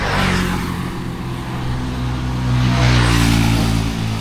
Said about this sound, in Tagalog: Bibilis ng motor dito ah.